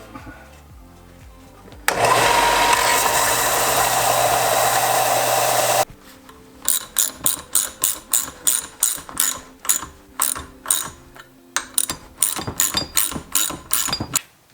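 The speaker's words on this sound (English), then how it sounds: "One more round on the belt sander to make it flat." A belt sander flattens a metal part in a workshop, running as a loud, continuous grinding whine for several seconds before cutting out, followed by a rapid series of sharp, rhythmic mechanical clicks and knocks.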